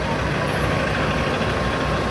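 A tronton bus with eight tires maneuvers through a sharp turn at a passenger shelter, giving a steady, loud engine rumble with continuous road noise throughout.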